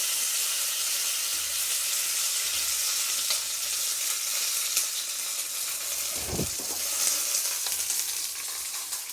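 Chicken gravy frying in a pan gives a close, continuous sizzle and hiss, with the stirring heard as soft scraping and one louder clatter partway through.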